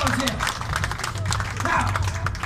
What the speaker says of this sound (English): Round of applause, ladies and gentlemen, for our volunteer.